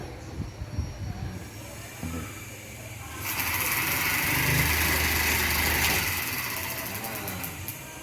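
A small motorcycle engine in a workshop lesson is started with the ignition switched on; after a few seconds of quiet clatter it catches abruptly and runs on as a loud, high-pitched, buzzing idle.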